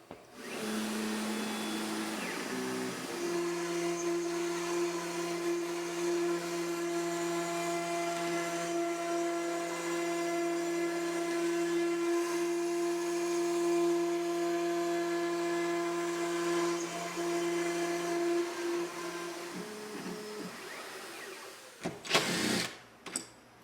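An X-Carve Pro CNC machine carves with a sustained high whine that holds steady for about twenty seconds, close and continuous, then winds down with a few clunks at the end.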